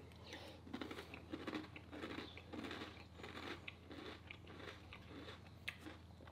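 Crunchy cinnamon cereal pieces soaked about thirty seconds in milk are chewed in a steady, rhythmic series of close, faint crunches, with no talking over them.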